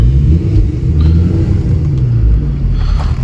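A stick-shift Camaro SS engine gives a deep, continuous low rumble, close and loud, without any sharp rise in pitch across the short stretch.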